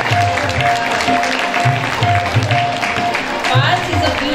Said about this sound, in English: Let the applause rise for the next beacon of dedication, Parth Sharma.